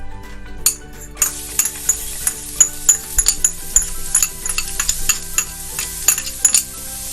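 Garlic crackles and sizzles as it fries in hot oil in a pan, with sharp spitting pops over a steady hiss and scraping stir noises, close and loud, no voices.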